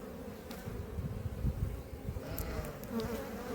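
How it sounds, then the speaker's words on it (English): Honey bees buzz in a dense, steady drone at an opened hive box in an apiary, close and continuous throughout with no talking. "you don't really want bees coming in your face like that when you open the box"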